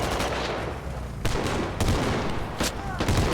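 Gunfire in the military shooter Squad, a steady rattle of rifle and machine-gun shots with several louder close bursts cutting through, dense and continuous across the whole stretch with faint voices underneath.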